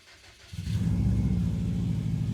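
A Subaru WRX STI with a rough exhaust leak fires up and settles into a loud, steady idle, its low rumble starting abruptly after a quiet moment and holding close and unbroken to the end.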